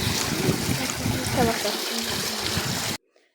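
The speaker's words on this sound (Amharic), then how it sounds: "ውሃን ኩሽኩሽ አሳያችኋለሁ።" Water trickles and splashes steadily for about three seconds in an outdoor spot where plants are watered, then stops abruptly into near silence.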